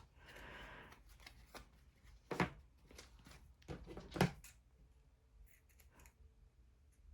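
Scissors snip through paper for a planner dangle with a few crisp cuts and soft paper rustling, close but faint, with pauses between the cuts.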